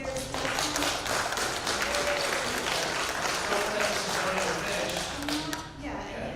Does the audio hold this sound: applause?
yes